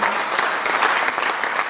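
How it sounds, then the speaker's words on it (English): A crowd at a cattle foundation fundraiser auction in Lima, Ohio applauds, a brief burst of steady, fairly loud clapping from many hands with no voices over it. "So if we give all a round of applause one more time"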